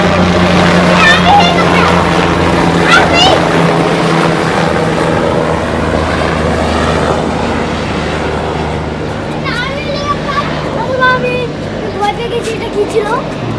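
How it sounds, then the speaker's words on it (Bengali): A low, steady engine drone with a whirring rotor hum of a helicopter flying overhead runs throughout, with people talking loudly over it and distant chirps near the end. "একটা হেলিকপ্টার যাচ্ছে"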